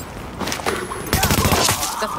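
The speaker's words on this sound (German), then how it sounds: "Das war ein Schuss." A rapid burst of gunfire in the video game The Division crackles over a steady background, followed by a dense fusillade of shots with a voice faintly mixed in.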